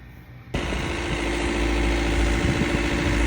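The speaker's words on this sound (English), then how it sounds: "Ford engine is running great." A Ford engine is started after a short quiet moment and then runs at a steady idle, a loud, close, even rumble with a constant vibrating hum. No one speaks.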